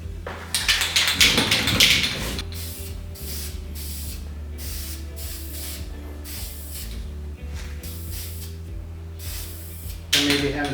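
A spray can of primer filler hisses loudly in an opening burst, then continues in short sputtering pulses over a low steady hum, ending with another strong burst.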